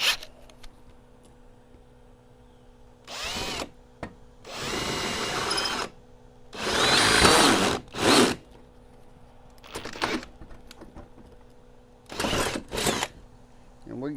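A power drill with a large bit bores a hole while a truck LED work light bar is installed, heard as several separate bursts of whirring of varying length with pauses between, fairly close, alongside occasional talk.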